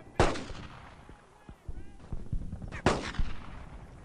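Gunfire in the World War II shooter Brothers in Arms: Earned in Blood: two sharp, loud shots about two and a half seconds apart, with scattered fainter reports and battlefield clatter between them.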